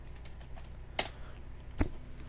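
Light, sparse keystrokes on a computer keyboard, soft clicks with a couple of sharper taps, close and quiet with no talking.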